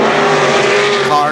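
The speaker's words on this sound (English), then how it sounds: "White flag for your leader, car number 58, Ralph Herod." Race cars roaring around KilKare Speedway during a Labor Day championship race, a loud, steady engine drone filling the track with the pitch sweeping slightly as cars pass, with an announcer's voice over it.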